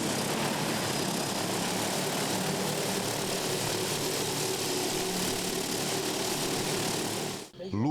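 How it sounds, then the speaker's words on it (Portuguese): An agricultural spraying drone flies over a coffee and grain farm in southern Minas Gerais, giving a steady, loud rotor drone and buzz that holds for several seconds, then briefly dips and cuts off near the end. "O drone é usado para aplicação de defensivos agrícolas"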